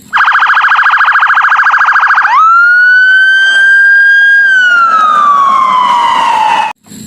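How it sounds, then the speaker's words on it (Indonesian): A toy police car plays a loud electronic siren: a fast pulsing warble for a couple of seconds, then a long wailing tone that slowly sinks before cutting off. "kalau yang ini mobil polisi"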